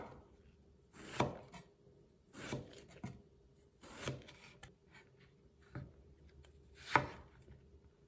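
A knife chops three long purple-skinned eggplants into roll-cut chunks on a board, a handful of sharp separated strikes spaced about a second apart, close and fairly quiet.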